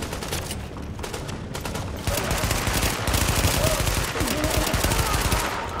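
Sustained automatic gunfire in the shooter game The Division, loud and close, with rapid bursts that grow denser after the first couple of seconds while a voice talks underneath.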